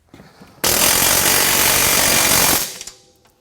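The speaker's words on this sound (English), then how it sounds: "If you're using one of these power ratchets" A power ratchet drives bolts on a Pro Armor Asylum roll cage, a loud close mechanical buzz that starts abruptly, holds for about two seconds, then cuts off into a few faint clicks.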